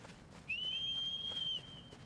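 A steady, clear whistle holds one high pitch for about a second, calling the horse in Shadow of the Colossus on PS4, heard alone against a quiet background.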